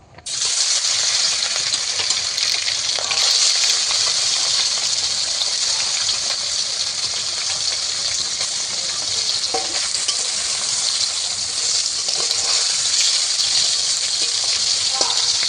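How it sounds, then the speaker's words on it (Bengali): Fish frying in smoking-hot oil gives a loud, steady sizzle that runs almost unbroken throughout, with faint clinks and stirring underneath. "মাছগুলো উল্টে পাল্টে একটু লাল করে ভেজে নেব"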